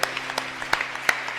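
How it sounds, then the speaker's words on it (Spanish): A church congregation claps in a short burst of scattered, uneven applause, moderately distant with a few sharper individual claps standing out. "Dale un aplauso al Padre de Padres"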